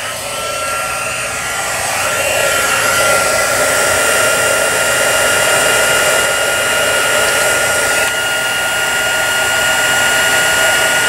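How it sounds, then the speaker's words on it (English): A handheld heat tool blows steadily and loudly, a constant whooshing hiss as it melts embossing powder on a flower shop display card, running alone without talk. "I'm just going to go ahead and turn my heat tool on, and we'll melt that embossing powder."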